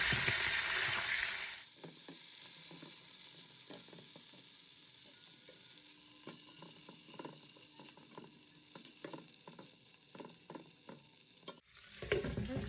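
Bacon frying in a pan for a jalapeño popper dip, a steady low sizzle with faint crackles and occasional utensil taps, bracketed by louder bursts of running tap water at the start and end.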